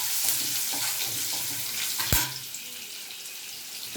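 Green chillies, curry leaves and hing fry in hot oil in a pan, giving a steady close sizzle with a sharp spitting crackle partway through.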